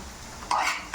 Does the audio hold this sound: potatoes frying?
yes